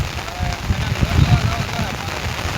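The first rain of the season falls on a Gujarati farm under a dark sky, a steady, dense patter with brief louder spatters, and faint voices far behind it.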